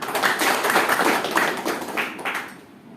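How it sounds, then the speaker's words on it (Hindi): Audience applause at a motivational business gathering, a dense burst of many hands clapping, fairly loud and steady for most of the moment before tapering off near the end. "तो हमारा डॉक्टर लिम्स जी के लिए कोई जोरदार ताली हो।"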